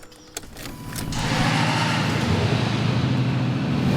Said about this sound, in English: starting the engine, let's start it now, have a little listen.